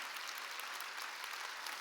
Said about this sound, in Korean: 깨달은 사람만 박수라고.